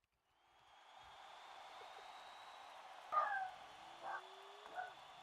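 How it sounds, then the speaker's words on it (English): Faint dogs yip and bark a few times in the background under a steady hum, with possible cat sounds mixed in, three short bursts spaced about a second apart. "apparently there's some dogs and cats in the background that are excited with your decision"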